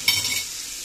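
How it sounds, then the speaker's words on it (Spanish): Battered hake sizzles in hot oil in a pan, opening with a sharp hiss as the fish goes in and settling into a steady, close crackling fry. "Así se fríe el pescado"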